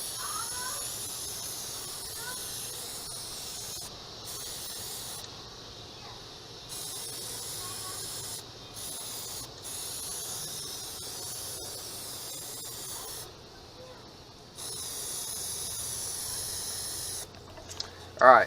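A red spray paint can hisses at a target in long, steady, close sprays broken by several brief pauses and a couple of gaps, ending with a short louder burst.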